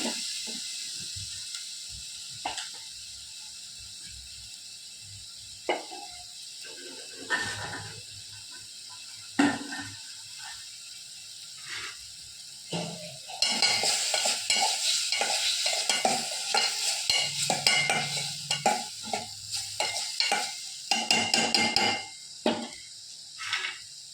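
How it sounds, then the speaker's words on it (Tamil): Food sautéing in hot oil with a pinch of cumin powder in a home kitchen: soft scrapes of stirring that build into a loud, dense sizzle and crackle with repeated utensil strokes. "நல்லா வதங்கிருச்சு எண்ணெயிலேயே"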